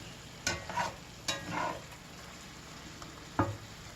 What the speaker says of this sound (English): we're just going to stir it up and let a lot of this liquid cook out